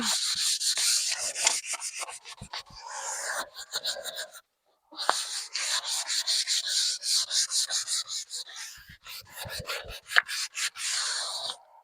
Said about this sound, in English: It's very hard to over sand the axe handle